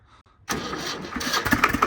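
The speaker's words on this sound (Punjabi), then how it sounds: "ਆਪਾਂ ਤੁਹਾਨੂੰ ਟਰੈਕਟਰ ਸਟਾਰਟ ਕਰਕੇ ਦਿਖਾਉਨੇ ਆ" A Swaraj 724 tractor engine self-starts, cranking and catching after a short quiet moment in cold weather, then runs loud and rough with a chugging rhythm, close up.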